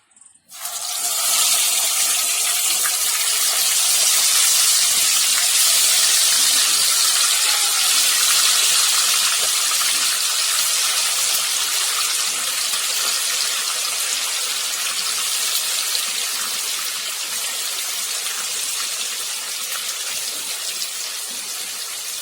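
Chicken pieces drop into hot oil and set off a loud, sustained sizzle that starts abruptly and hisses steadily without a break, with no voices over it.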